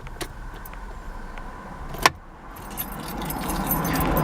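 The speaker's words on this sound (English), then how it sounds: "but when we take the key out," A car key is pulled from the ignition with a brief metallic jangle of keys, one sharp click in the middle, close by over a steady low hum from the car with the radio still on.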